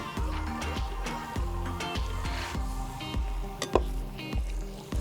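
Carrots are stirred into a sizzling one-pot rice dish cooked over an outdoor fire, with a steady frying hiss under repeated scraping and stirring clatter from a utensil against the pot.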